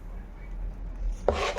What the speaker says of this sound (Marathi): चमच्याने आपण व्यवस्थित असं फेटून घेऊया